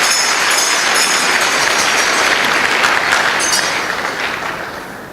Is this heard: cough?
no